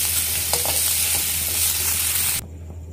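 Jackfruit pieces fry in a kadai with a dense, close sizzle and a couple of light stirring scrapes, cutting off abruptly near the end.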